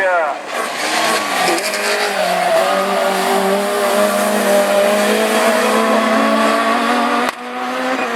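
Rallycross race cars, among them an Audi A1 and a blue Peugeot 206, speeding in a French championship heat at Lessay; engines roar and rev continuously while a commentator talks over them.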